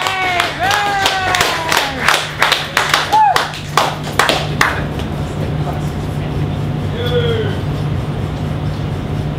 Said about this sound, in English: give him lots of applause